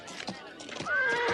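A horse neighs in a brief, bright whinny with a wavering pitch, preceded by shuffling hoof and movement sounds and faint voices, all within about a second and a half.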